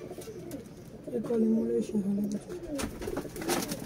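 Young flying pigeons coo and flutter close by, with soft rolling calls in the middle and a quick flurry of wing noise near the end, over faint background murmur.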